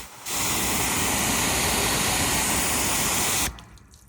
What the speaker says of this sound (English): Look how the water falls off, guys.